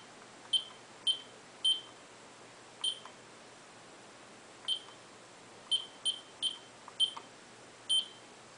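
An Ademco security panel keypad emits short, sharp electronic beeps, about a dozen spread irregularly, some in quick pairs or triplets, over a quiet background.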